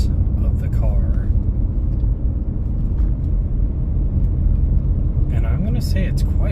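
Steady, loud low rumble of road noise inside a car cabin after sound deadening was added to the transmission tunnel and under the bench seat, continuous at cruising speed with a voice talking over it.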